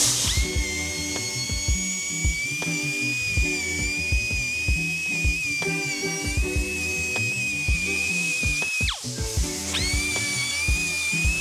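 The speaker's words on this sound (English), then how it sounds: "I'm gonna go around chamfer all the holes and edges so that there's no sharp edges" A high-pitched tool whines while chamfering the holes and edges of a junkyard engine block, its pitch wavering and dipping with short rhythmic catches and a brief break near the end, close and without speech.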